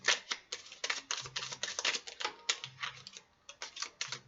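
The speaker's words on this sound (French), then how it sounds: "Je mélange une première fois sans tenir compte de celle qui tombe ou se retourne." Tarot cards are shuffled by hand up close, a steady run of quick papery flicks and taps in uneven bursts, with no talk over it.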